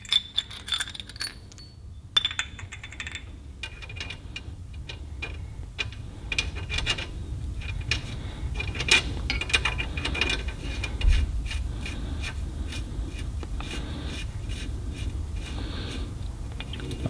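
Wheel bearing preload adjustment nut being snugged down on a Datsun 280ZX, with a steady metallic ratcheting and rubbing of a tool turning the greased nut, close and continuous.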